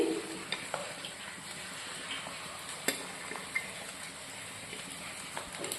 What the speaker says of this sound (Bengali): এই যে চিকেনটা মেশাচ্ছি